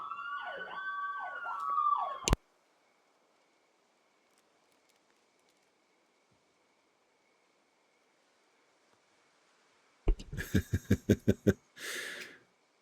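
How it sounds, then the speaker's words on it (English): Wailing emergency sirens sweep up and down outside in a Build 42 survival game, loud for about two seconds before cutting off abruptly into silence, followed by a burst of rapid thumps and a short noisy rush. "Sorry about the sirens."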